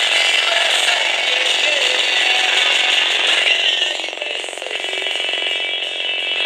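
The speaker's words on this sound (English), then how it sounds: "Okay, that's the sound of a radio station" FM radio station signal picked up on the ground and neutral wires of a house's wiring by an RF meter's audio output, a loud continuous harsh hiss and buzz with no talk.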